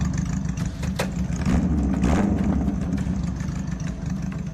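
A motorcycle engine rumbles at a low, steady idle, with a slight rise in revs partway through, heard at moderate loudness with no voices.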